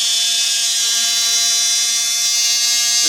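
A rotary tool drill burnisher running at full speed gives a steady, high-pitched whine with a constant tonal hum, close and uninterrupted throughout.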